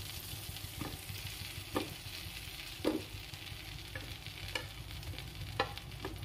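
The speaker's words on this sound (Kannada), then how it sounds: "ಈಗ ನಾವು ಬೆಂಡೆಕಾಯಿಯನ್ನು ಇದರಲ್ಲಿ ಫ್ರೈ ಮಾಡುವ" Okra frying in melted butter hisses softly and steadily, broken by occasional faint spoon scrapes at uneven intervals, quiet and with no one speaking.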